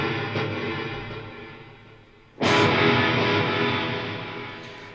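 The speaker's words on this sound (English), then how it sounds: "you can hear that our reverb is triggered off the delay repeats." Electric guitar through a Line 6 HX Stomp with delay repeats feeding a reverb, a sustained washy tone swelling as a fresh strike lands midway and then slowly decays.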